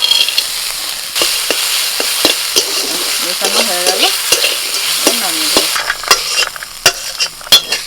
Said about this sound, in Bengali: শাকটা ভাজা হয়ে গেছে যে ভাঙা বড়ি আর বাদাম দিয়ে দিচ্ছি